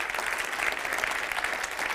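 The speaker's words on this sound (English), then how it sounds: "big applause for Mr. Conor Hoekstra." Steady, dense clapping from a conference audience at the code::dive 2022 programming conference, applauding a speaker; a continuous wash of hands at moderate volume, no voices over it.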